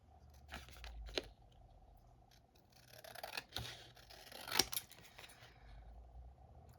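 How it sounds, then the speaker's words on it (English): Scissors snip through a recycled cardboard file folder to cut out a Christmas tag: a few soft, separate cuts and crunches in a quiet room. "So let's cut her down now."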